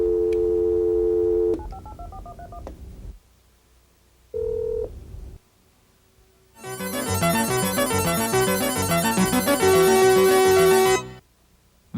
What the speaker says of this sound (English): the popular touch-o-matic telephone, which can dial stored numbers at the touch of one button.